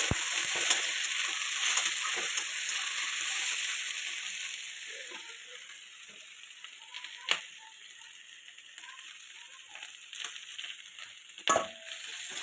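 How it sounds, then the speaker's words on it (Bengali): Potatoes and onions fry in a pan with a steady close sizzle, punctuated by occasional scraping knocks of a spoon stirring, no talking. "দেখো আমার আলু আর পেঁয়াজটা ভাজা হয়ে আসলো।"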